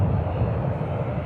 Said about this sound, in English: Lufthansa from Frankfurt is the next aircraft to touch down.